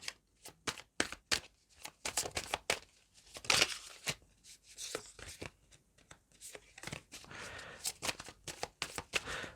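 Cards being shuffled close up, a run of quick riffling flutters and soft slaps in irregular bursts, fairly quiet.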